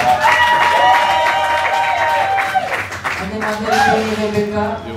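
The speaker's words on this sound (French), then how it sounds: "Applaudissez." Guests at a civil wedding ceremony clapping and cheering, applause rising and falling while voices talk over it.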